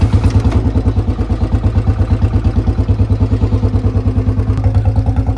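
A Royal Enfield Bullet BS6 motorcycle engine, kick-started, idling close and loud with a rapid, even thumping beat and metallic clatter throughout.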